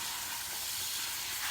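Gnocchi tossed in a pan of brown butter give off a steady, loud, close-up sizzle, a dense hiss that runs unbroken for the whole moment with no one talking over it.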